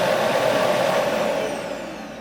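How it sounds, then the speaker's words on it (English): The Roborock S8 Pro Ultra base station auto-empties the robot vacuum's dustbin with a loud, steady suction roar that holds evenly, then begins to fade at the end. "after the robot is done cleaning, it empties the dustbin into the larger dustbin in the base"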